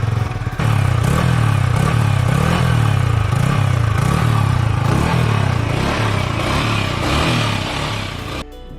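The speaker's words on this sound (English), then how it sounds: "the stock exhaust gives a very sporty sound." A 2021 Yamaha R15 V4 (R15 M MotoGP edition) with its stock exhaust revs loudly and close up, a steady high engine note rising and falling in repeated throttle blips for several seconds before easing off.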